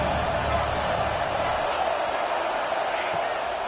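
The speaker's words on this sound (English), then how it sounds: "The Buckeye crowd alive on third down." Ohio State Buckeye football stadium crowd at a game against Indiana cheering on a third down, a dense, steady roar that fills the clip, with a voice speaking over it.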